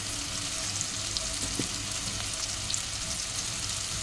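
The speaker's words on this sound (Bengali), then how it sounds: "এখন মশলাটা কষিয়ে নেব।" Ginger, cumin powder and coriander powder fry in a pan with a soft, continuous sizzle and occasional stirring scrapes, close but fairly quiet, with no voices.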